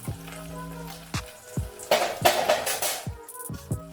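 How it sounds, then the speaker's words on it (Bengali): Garlic paste hitting hot oil after fried ginger for a fenugreek chicken curry, a broad sizzling burst that swells midway and crackles on, with a few utensil knocks around it. "এখন রসুন বাটা দিয়ে দিচ্ছি।"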